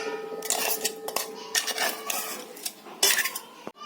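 Grated coconut is tipped into a wok and stirred, with close metallic scraping and clinks of a spoon against the pan in irregular bursts, no talking.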